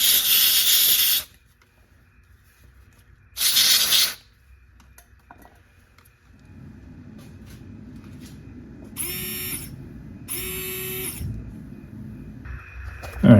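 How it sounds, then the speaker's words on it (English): Contact cleaner sprayed into a connector during a 1997 Jeep XJ washer pump job, heard as several sharp, loud hissing bursts of about a second each separated by quiet gaps, with a low hum in between. "I'm just going to spray some contact cleaner in there just to clean it up a little bit."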